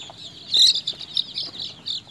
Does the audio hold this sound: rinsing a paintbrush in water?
no